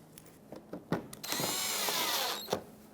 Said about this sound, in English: let's reinstall all the 8mm screws that went all around